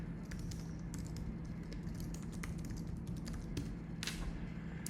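Someone types an email address on a computer keyboard, a quiet, close run of quick, uneven key taps with short pauses, in a quiet room with no talking.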